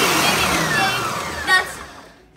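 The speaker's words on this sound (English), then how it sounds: "We're blending." A loud motor whirring steadily, its pitch drifting, then winding down and fading to quiet at the end.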